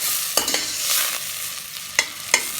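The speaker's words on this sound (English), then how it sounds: "Give it a stir" Chopped tomatoes with bell pepper, peas and onions stirred and sautéed in a pot for Bajan green peas and rice, a steady sizzle broken by a few sharp spoon scrapes, close and alone.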